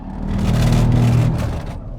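A Polestar 3 electric SUV with all-wheel drive accelerates hard on a circuit track, a loud close whirring hum that swells and fades over two seconds.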